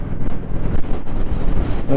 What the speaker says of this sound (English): As you can probably hear, it is so windy right now.